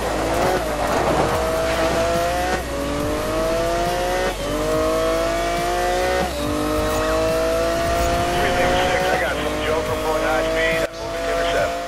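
A tuned Mitsubishi Lancer in Need for Speed Most Wanted roars through repeated gear shifts with squealing tires during a police chase, engine loud and continuous while a player talks over it.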